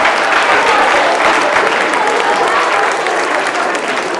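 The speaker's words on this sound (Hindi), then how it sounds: "तो एक बार दोनों हाथ उठा के इसके लिए जोरदार तालियां बजा दो।" Loud, thunderous clapping from a large audience at a Hindi poetry recital, a dense, continuous roar of many hands held steady at high volume from start to finish.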